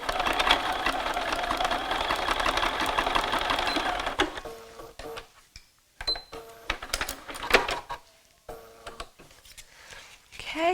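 A home sewing machine stitches a short seam through fabric strips and a foundation paper pattern, running steadily for about four seconds before stopping, followed by quieter handling noises of fabric and paper.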